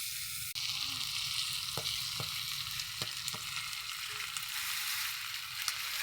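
Meat sizzles loudly in a pan with ginger-garlic paste, a constant frying crackle broken by several sharp scrapes and knocks as it is stirred.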